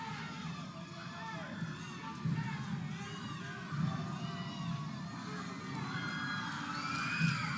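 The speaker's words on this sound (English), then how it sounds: "The crowd is pulling for it." Wrestling crowd at a 1982 Mid-South tag-team match cheering and shouting continuously, a loud, dense roar with excited children's yells rising and falling throughout.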